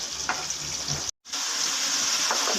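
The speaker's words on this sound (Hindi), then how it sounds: "हमारा मसाला भून गया है। अब हम इसमें मछली शामिल कर देते हैं।" Masala frying in a pan for fish curry, a steady close sizzle with faint stirring, briefly interrupted by a short silent gap before the frying continues.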